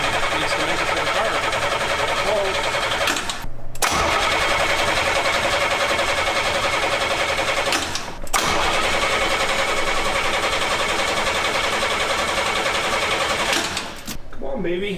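A 1969 McLaren M6GT replica, parked since 1985, has its engine cranked over and over in long, steady, rapid churning bursts with brief breaks between them, loud and close, while people talk over it.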